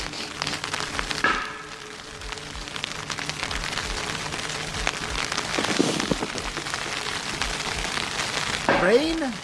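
Steady rain patters across the whole stretch, a dense hiss of drops, with a few brief voice-like sounds rising above it near the end.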